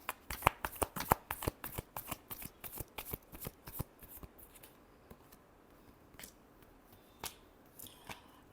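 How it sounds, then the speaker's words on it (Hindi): Playing cards being shuffled close up during a tarot reading, a rapid run of crisp riffling snaps that thins into a few scattered flicks and taps, with no talking. "लिब्रा के लिए लास्ट शफल।"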